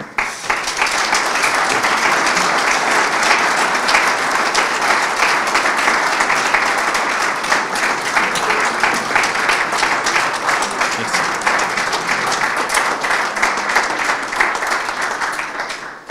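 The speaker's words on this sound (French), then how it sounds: "ces applaudissements valent mieux qu'un nouveau discours de ma part" Sustained, dense audience applause after a speech at a conference on the role of associations in fighting poverty, a loud, even roar of many hands clapping that runs unbroken for about sixteen seconds.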